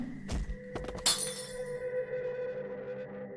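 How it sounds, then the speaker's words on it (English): A glass wine bottle smashes, a couple of dull thunks leading into a sharp shattering crash, then a ringing, tinkling decay of glass pieces fading away, close and isolated with no voices. "It was then that the glass wine bottle smashed into 27 pieces"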